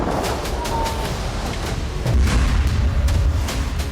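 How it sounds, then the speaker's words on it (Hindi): Blast from an Israeli Merkava tank being blown up in the Jabalia camp, heard as dense low rumbling booms with sharp cracks, swelling louder midway and sustained throughout, with no talk. "जबालिया कैंप में हमास के लड़ाकों ने इजरायल के मरकावा टैंक को धमाके में उड़ा दिया"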